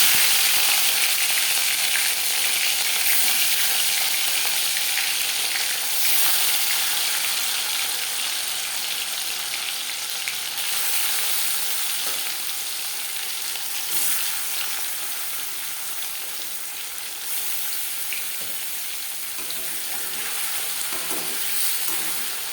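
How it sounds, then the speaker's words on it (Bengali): Marinated katla fish fries in hot refined oil, giving a loud, continuous, close-up hiss and crackle that holds steady throughout without any talking. "5 চামচ রিফাইন্ড অয়েল গরম করে নিয়েছি। এবার দিয়ে দেবো ম্যারিনেট করে রাখা মাছ।"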